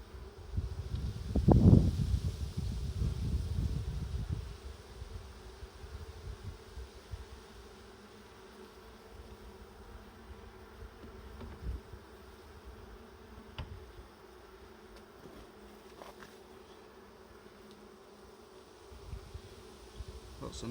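Honey bees buzz around an open hive during a third-week inspection of packed brood and nectar-filled frames, a dense close swarm hum with a louder burst of handling noise at the start.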